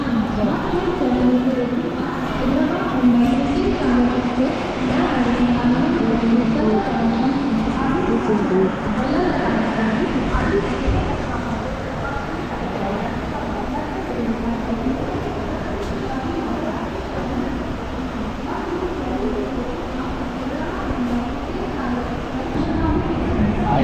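A Konkan Railway passenger train on the CSMT to Sawantwadi route pulls away and runs on in the rain, a continuous rumble and clatter of wheels heard under people talking nearby.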